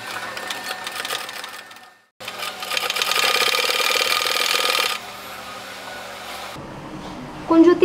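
A sewing machine stitches a frill pillow cover made from old tops, running in steady bursts with a brief pause early on, then slowing before cloth handling noises at the end.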